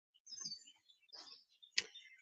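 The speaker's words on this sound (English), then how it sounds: "I've been sitting out here listening to the birds since I got out here this morning" Birds singing outdoors on a quiet morning, a few faint, scattered high chirps and short trills with gaps of silence between them, distant and soft.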